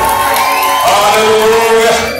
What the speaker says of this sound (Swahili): Chapa makofi na vigelegele kwa Yesu.